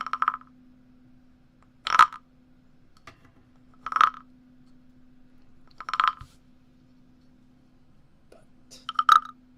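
A wooden frog guiro scraped and tapped in a quiet room, producing five short, sharp ratchety clicks spaced about two seconds apart, close and crisp over a faint steady hum.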